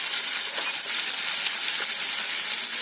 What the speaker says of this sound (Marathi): आता मिरची जळली जाते परतवून घ्यायचे